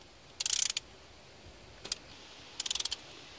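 Faint ratchet clicks while tightening a spark plug on an Audi A3, arriving in three short bursts of quick ticking separated by quiet pauses; no speech.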